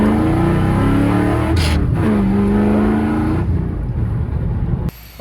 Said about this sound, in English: When you're like wide open throttle, steaming it, sounds like a NASCAR.